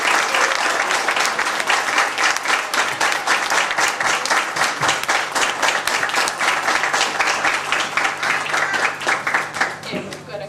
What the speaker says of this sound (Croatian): Molim vas jedan veliki aplauz za Igora Josića.